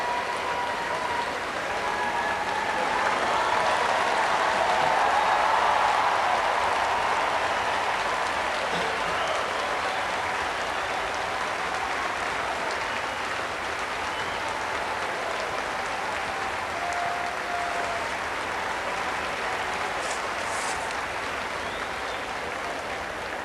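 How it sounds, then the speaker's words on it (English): A large Centre Court crowd at Wimbledon applauds steadily for the players walking out for Henman versus Ivanisevic, a dense wash of clapping and cheering that swells early and then holds loud and continuous throughout. "no doubt to a huge ovation"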